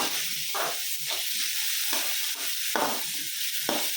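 Tomato stirred and frying in a pan for okra thoran, steady sizzle broken by repeated scraping strokes of a spoon at roughly half-second to one-second intervals, close and clear with no talking.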